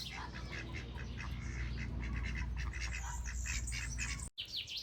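Partridge outdoors near a rooster giving a string of rapid scratchy squawking calls, fairly close, over a low rumble of background noise.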